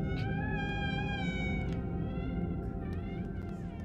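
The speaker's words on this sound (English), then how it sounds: "Sounds like a cat." A cat meows in the video game Little Nightmares, a drawn-out, tonal wail rising and falling over a dense, rumbling ambient drone, fairly quiet and eerie, with no talking.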